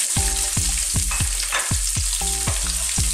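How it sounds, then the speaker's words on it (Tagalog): Garlic and onion sautéing in cooking oil in a preheated pan for pork pinakbet: a steady close sizzle broken by regular clinks and scrapes of a utensil stirring about twice a second. "Gisayin lang po natin."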